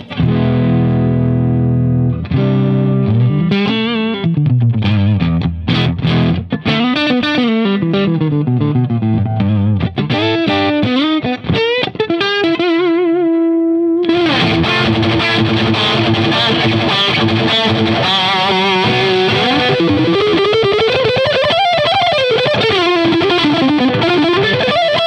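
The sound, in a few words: electric guitar played through a Marshall Plexi amplifier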